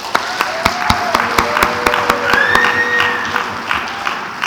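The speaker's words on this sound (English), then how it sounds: "let's give this special couple another round of applause." Wedding guests clap for the newly married couple at the celebration, a moderate round of applause with some sharp nearby claps standing out and faint ringing tones behind it.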